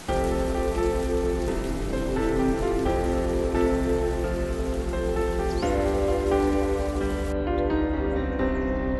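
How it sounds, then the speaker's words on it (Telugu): Steady rain pours down outdoors, a dense, continuous hiss of drops on surfaces that stays loud and even throughout with no voices. "వర్షం పడుతుంది, వెళ్దాం పదా."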